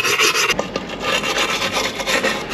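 Scraping and rubbing as old sealant is worked off Mercedes M113 V8 engine parts from a CLK 55 AMG oil leak repair, a close, steady rasping texture with short strokes.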